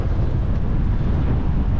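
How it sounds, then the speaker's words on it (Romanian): Loud, rumbling wind buffets the microphone continuously during a mountain bike ride near a bridge, a dense low roar with no other sounds coming through. "Uite aici vânt, frate."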